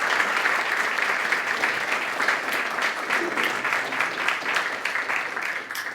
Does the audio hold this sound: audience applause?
yes